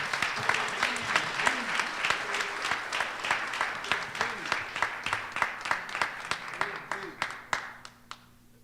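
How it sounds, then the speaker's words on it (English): A crowd at a Brooklyn community event honoring NBA player Rolando Blackman gives a round of applause. Many hands clap in a steady, pulsing rhythm with voices underneath, then the clapping tapers off near the end. "Let's give a round of applause for him."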